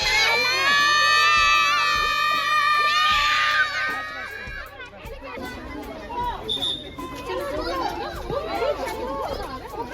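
Schoolchildren on a trip to see a bear and elephant shout and cheer together in loud, overlapping bursts, with high squeals at first and excited chatter after.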